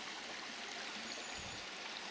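Fresh, fast-running stream water in an early-spring Dales woodland, a continuous close rushing and babbling flow with no pauses, steady and fairly soft.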